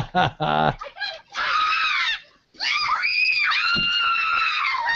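Young girls scream shrilly in a played-back clip, with bursts of high-pitched shrieking and giggling, a short gap midway, then a long sustained scream, loud and close.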